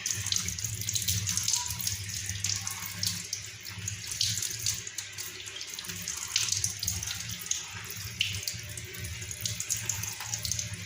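Tap water runs steadily into a sink while hands are washed, a continuous close splashing that shifts slightly in texture over the stretch.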